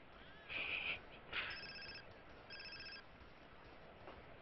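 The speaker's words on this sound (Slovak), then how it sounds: "Aha, takto mi zvoní mobil, ne?" A mobile phone rings inside the Grand Theft Auto: San Andreas game, with two short bursts of an electronic ringtone in quick succession, fairly faint over a soft background hiss.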